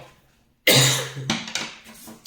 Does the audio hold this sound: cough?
yes